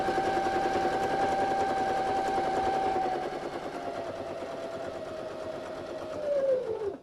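A sewing machine stitches fabric for a zipper bag in a steady, close, continuous whir with a sustained hum, slowing briefly near the end.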